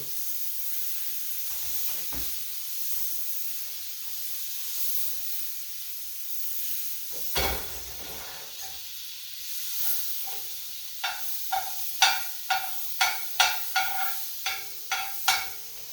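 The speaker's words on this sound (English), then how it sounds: "all the butter splatters everywhere and gets everything disgusting" Ground beef frying in butter in a pan gives a steady, close sizzling hiss, joined in the later seconds by a run of sharp scraping and tapping bursts as it is stirred.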